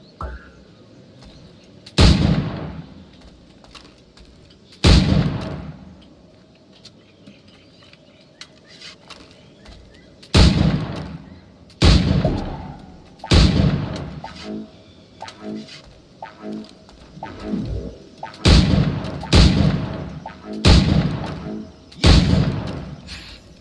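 Cannon fire at targets in the Assassin's Creed IV Black Flag video game: loud booming shots at irregular intervals, some in quick pairs, each with a ringing tail, mixed with faint game ambience and splashes.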